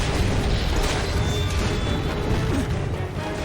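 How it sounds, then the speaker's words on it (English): Explosion in the online action game Monster Hunter Online during a raid on the armored crab monster Teppeki Shen Gaoren, a dense, sustained rumbling blast with crashing debris filling the whole stretch at steady loudness, no voices. "And that explosion as well."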